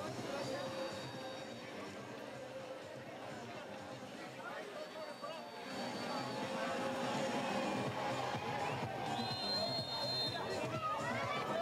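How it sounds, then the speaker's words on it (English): A large crowd lines the course of an urban downhill mountain bike race in Valparaiso, producing a steady, distant roar and babble of cheering that swells midway, with a commentator's voice over it. "I heard the crowd making some noise there."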